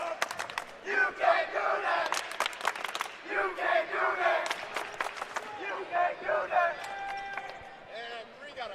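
A basketball crowd at a West Virginia boys' high school game between Princeton and Woodrow Wilson chants in loud rhythmic bursts, rising and falling over and over, with an announcer's voice partly heard under the noise.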